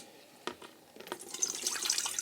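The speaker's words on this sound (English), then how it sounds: "I'm going to drain the water, get all the wet paper out." Water drains from a container of wet paper pulp, starting with a few soft splashes and drips, then building into a steady trickling pour that grows louder toward the end.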